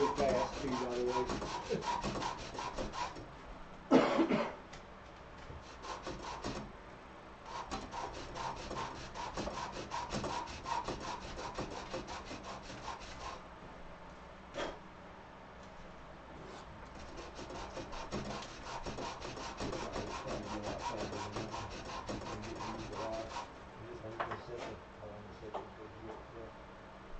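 Wood is sanded quickly by hand during an evening FPV drone build, a long run of steady rapid rubbing strokes broken by brief pauses and a few louder knocks, with people talking at times.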